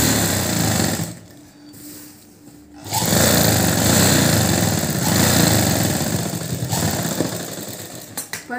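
A sewing machine stitches the collar of a school uniform coat in a rapid, steady whir, stopping briefly before running again in continuous bursts up close.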